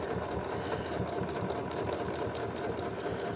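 A domestic sewing machine runs continuously at an even pace while stitching around the seam of a fabric basket, producing a close, steady mechanical hum and rapid needle patter with no talking.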